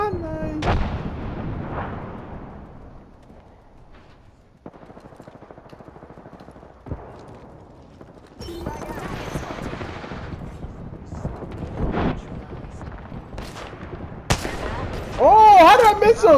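Bursts of weapon fire from the shooter game Apex Legends crack out irregularly across the stretch, some sharp single shots and some rapid volleys, loud and close, with players talking over the action.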